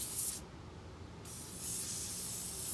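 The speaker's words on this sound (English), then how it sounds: "give it a good spray around." Aerosol can of Freol penetrating oil sprayed around a front disc brake rotor, a steady close hiss that starts abruptly and runs on for a couple of seconds.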